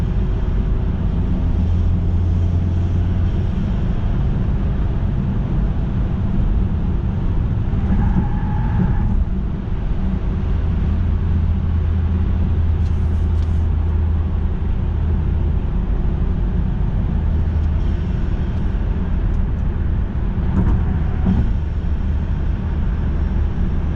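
Steady low exhaust drone fills a car cabin, a constant rumble with road noise holding level throughout, no voices.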